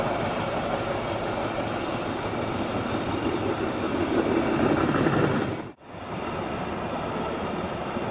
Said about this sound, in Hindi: हमारी ट्रेन को ओवरटेक करके निकल रही है अपनी सीमांचल एक्सप्रेस आनंद विहार जोगबनी बछवाड़ा जंक्शन पर